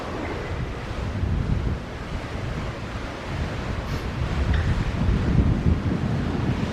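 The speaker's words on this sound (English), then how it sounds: "See if it's windy out here. Yep, it's windy." Steady, loud wind buffeting the microphone outdoors on the deck of a cruise ship, with a broad rushing roar and low rumble throughout, no voices.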